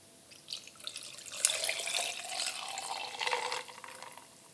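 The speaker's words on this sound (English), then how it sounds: "I'm going to fill this up with ice and pour it in." Ice and liquid are poured into a container, making a continuous splashing, trickling pour with some brief clinks and surges. The sound is close but fairly soft.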